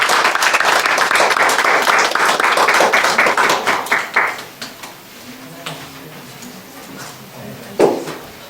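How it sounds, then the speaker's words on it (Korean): A church congregation claps for the children at a Sunday service, a dense burst of many hands for about four seconds that thins into scattered claps and then fades, with one brief louder clap near the end. "박수로 응원하겠습니다"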